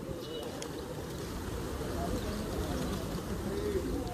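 A large flock of about a thousand Hyderabadi pigeons coos in a continuous low, murmuring chorus, steady and close, with faint background noise.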